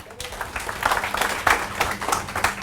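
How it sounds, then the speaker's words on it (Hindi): An audience at a motivational training event in Mumbai claps loudly, building from a quiet start into a fairly dense, uneven round of applause that continues to the end. "जोरदार तालियां आपने लिए।"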